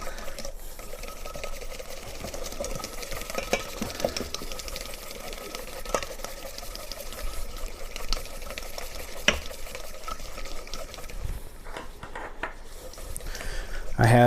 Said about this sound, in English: I'm using the Rada's handy stir, and we're going to want to get these egg yolks whisked up